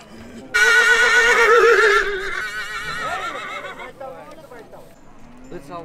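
A horse at a livestock market in Tokmok gives a loud, close, quavering whinny lasting over a second, which then trails off. Market noise and people talking fill the background.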